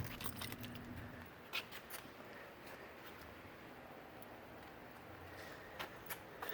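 Keys and a key fob for a 2017 Toyota Sienna mobility van jangling faintly and continuously, with a few sharper clinks, close by and quiet with no talking.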